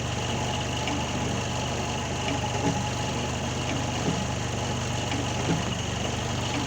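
A car engine idling at about 700 RPM, a steady close low hum with faint mechanical ticking, constant and alone with no speech.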